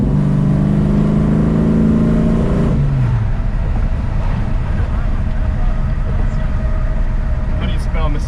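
A train rumbles past nearby with a low, steady roar of wheels on rails, an engine drone fading after a few seconds, amid constant background noise.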